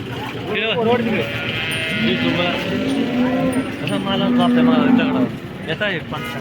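Cattle at the Modnimb cow market in Solapur, with several cows lowing and long bellowing moos under a dense crowd of talking voices and general market hubbub.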